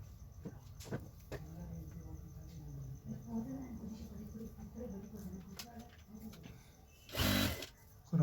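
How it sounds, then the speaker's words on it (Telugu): A sewing machine stitches over elastic on ladies' pants, a soft, steady mechanical whir running close and continuous, interrupted near the end by a brief louder rustle of fabric. "ఆ ఎలాస్టిక్ మీద స్టిచ్చింగ్ స్టార్ట్ చేసుకోవాలి"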